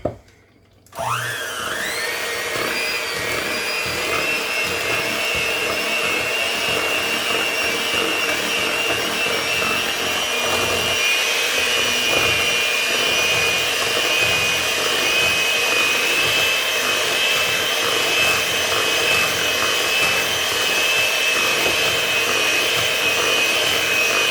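A Hamilton Beach electric hand mixer starts with a click and runs at a steady, loud whirring hum for over twenty seconds while beating ingredients in a bowl, its beaters scraping faintly, with no talking.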